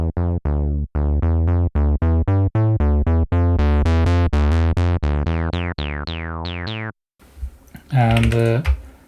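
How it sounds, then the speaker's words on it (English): Elektron Analog Four saw bass with Mark I overdrive plays a fast run of bright, buzzy plucked notes that rise in pitch, loud and alone, followed by a short rougher, noisier note at the end. "So it's a bit more predictable than the old Mark I overdrive, which sounds like this."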